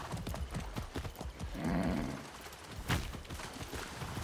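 Video game horse hooves clopping in a steady rhythm over rough ground, with a snort or whinny partway through and no talking; from Far Cry 6.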